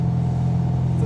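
A 1980 Chevy Camaro Z28 restomod with a gear-drive engine holds a deep, steady rumble close by, a brief continuous drone without talk.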